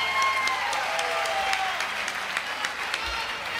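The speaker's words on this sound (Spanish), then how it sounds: "Un aplauso." A studio audience at a television show applauds steadily, a dense wash of hand claps with scattered sharper claps throughout.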